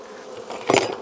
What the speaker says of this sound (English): Got some bees on the top cover.